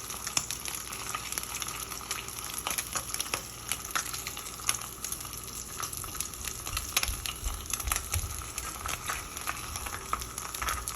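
Turkey bacon fries in a HexClad skillet with a steady, crackling sizzle, close and moderately loud, sharp pops scattered through a constant hiss with no voices.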